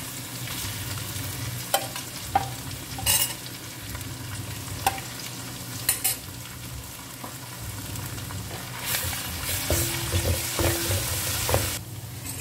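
Crushed garlic and ginger sizzle while frying in a pan for a beef pickle, a steady low crackle broken by intermittent scraping stirs and clinks, with no voices.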